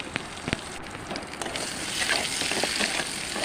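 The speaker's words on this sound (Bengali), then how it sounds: "এগুলো সিদ্ধ আলু একটু ভেজে নিলাম সামান্য হলুদ দিয়ে" Boiled potatoes fry in oil with a pinch of turmeric in a kadai on a gas stove, a steady close sizzle broken by occasional stirring clicks.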